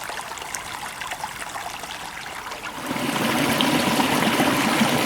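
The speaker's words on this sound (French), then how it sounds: "le bruit de l'eau c'est toujours formidable" Water in a small stream trickles and burbles steadily nearby, growing fuller and louder partway through as the flow becomes a brighter rush.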